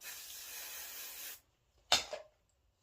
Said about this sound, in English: let me spray some hairspray on this section below